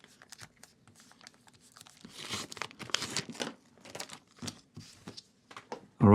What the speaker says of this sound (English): I often use this tape to clean my grip tape